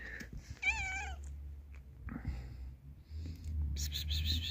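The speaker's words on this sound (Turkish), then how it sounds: "Biz o taraftaki kediyi beklerken bu taraftan kedi geldi." A cat meowing outdoors in a Turkish country town, several short wavering meows, close and fairly loud, with soft rustling and quiet human sounds between them.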